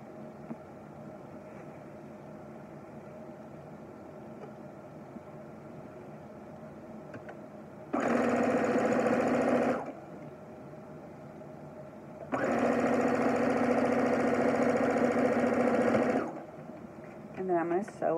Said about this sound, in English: Sew all the way around the perimeter, like an eighth of an inch around.